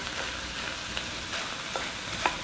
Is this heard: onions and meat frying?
yes